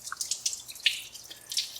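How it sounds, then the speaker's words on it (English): Water flushing out of the water pump of an abandoned 1962 AMC Rambler engine, heard as scattered close drips and small splashes at an uneven rhythm, with no talk. "Coming out the water pump now."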